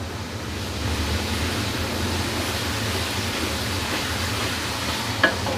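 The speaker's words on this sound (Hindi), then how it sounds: "इसको 1 आध मिनट इसमें फ्राई कर लें, आंच अब थोड़ी तेज़ कर लें।" Chopped fresh garlic and ginger fry in a pot over raised heat, a steady, even hiss of moderate loudness with a small click near the end and no speech.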